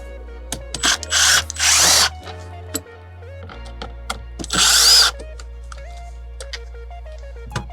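Power drill backing screws out of car dashboard trim while fitting a Nextbase dash cam hardwire kit: two short whirring bursts close together, then another burst, separated by quiet clicks and handling noises.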